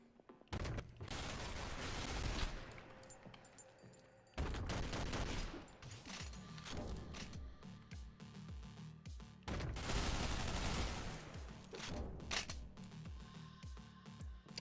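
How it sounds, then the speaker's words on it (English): Loud OTXO video game combat: dense bursts of rapid gunfire and blasts, including a grenade explosion, come in long heavy volleys separated by brief lulls. "Oh, that's a grenade."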